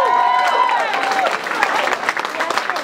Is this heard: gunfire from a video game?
no